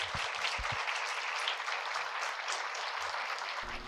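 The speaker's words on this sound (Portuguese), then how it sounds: "Os espectadores aplaudem calorosamente a entrada do convidado Leonardo Boff." Studio audience at a talk show warmly applauding a guest's entrance, a full steady roar of clapping, with a few low thumps from the stage underneath.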